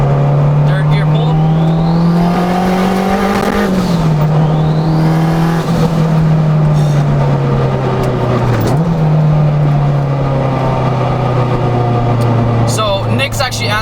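A boosted Acura RSX (DC5), around 400 horsepower and fitted with an EP3 transmission, pulls hard in third gear. The loud, steady engine drone climbs in pitch, dips briefly at the gear changes, then climbs again, and a person talks over it.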